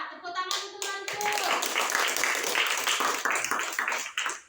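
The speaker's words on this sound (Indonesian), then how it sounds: "tepuk tangan untuk mantu" Hands clapping in a classroom of children during a teacher's lesson, a burst of many small claps after a brief voice at the start, steady and fairly loud throughout.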